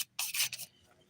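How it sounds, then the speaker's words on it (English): Close, quick rasping strokes of a 180 grit nail file smoothing foiled fingernails, a brief scratchy burst of about half a second followed by quiet. "I'm actually going to use the 180 grit side of this foil just to kind of smooth it out before buffing"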